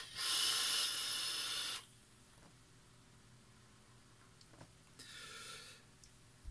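Vaping on a Freemax Fireluke Mesh tank with the airflow half closed: a loud airy draw hiss lasting under two seconds, a quiet pause, then a second shorter, softer draw.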